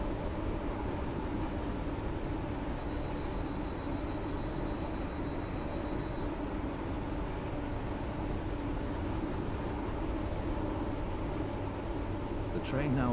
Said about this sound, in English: This train is now approaching Newry.